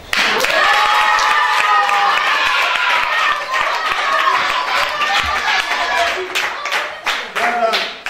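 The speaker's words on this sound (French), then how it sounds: "Applaudissez pour ce monsieur." Loud applause and clapping from a Christmas audience at a children's foundation party for a man named François, with a crowd of children's voices calling and cheering over it throughout.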